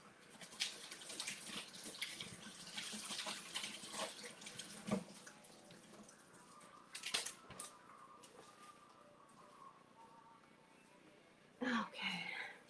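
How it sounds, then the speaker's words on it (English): Running tap water while hands are washed at a kitchen sink during food preparation, a steady hiss with a few brief splashes and clatters, close by and moderately quiet. "I'm gonna wash my hands, 1 second."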